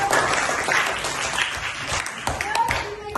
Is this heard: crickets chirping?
no